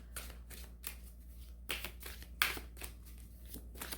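Oracle cards being shuffled by hand in a quiet room, a series of soft papery riffles and slides repeating in irregular bursts, close and moderately faint, with no talking.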